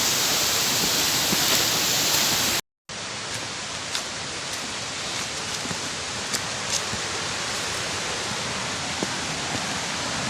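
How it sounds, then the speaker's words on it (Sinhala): Continuous rushing water noise of a forest stream flowing nearby, steady and broadband, with a brief dropout near the start and occasional small splashes. "දැන් නම් දොළ පාර ඉතාමත් ළඟයි"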